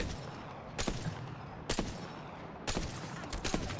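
Bursts of rapid gunfire in three separate volleys, sharp and loud against a quiet background hiss, like shooting in a video game.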